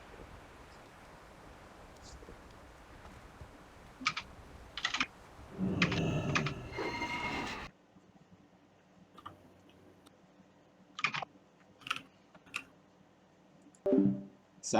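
Keys clatter on a computer keyboard in short, quiet bursts of rapid tapping with pauses between them, over a faint background hiss.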